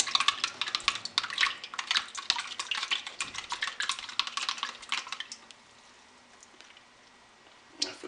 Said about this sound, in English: So I'll stir it in.